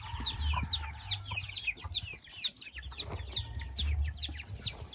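Hubbard broiler chickens cluck softly in a small flock, repeated short chirpy calls over a low rumbling background, with occasional fainter bird noises.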